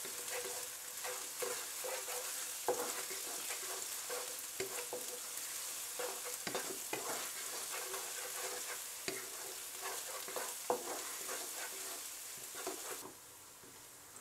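Steady frying sizzle with a spoon scraping and stirring through thick ginger-garlic paste in a pan, repeated clicks against the metal, no voices, ending quieter.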